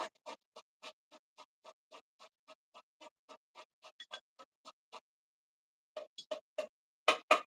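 Fresh ginger and garlic being rubbed finely on a kitchen grater, a steady run of short, evenly spaced rasping strokes close by, pausing briefly before a few quicker, louder scrapes at the end.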